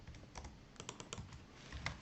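Quiet, close clicks of typing on a computer keyboard, coming in quick irregular clusters with no voice.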